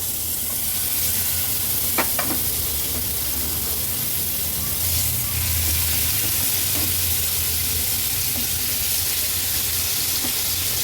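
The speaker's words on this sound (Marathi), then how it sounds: "आता एक एक करून हे लेग पीस आपण तेलावर सोडूया।" Chicken leg pieces frying in oil in a pan give off a steady, dense sizzle with a few brief clicks and knocks, close and continuous with no talking.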